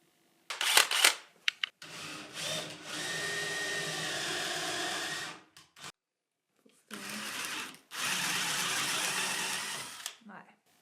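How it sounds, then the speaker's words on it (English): A power drill with a small bit bores into wood in two sustained whirring runs of several seconds each, close and loud, with a pause and brief clicks between them. "give it a shot with a smaller drill bit"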